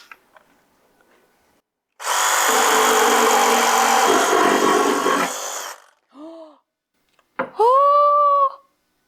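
A power tool cuts dentil molding off a 1970s china cabinet in a loud, close buzzing run of about four seconds, followed by short tool bursts and squeaky rattles after it stops.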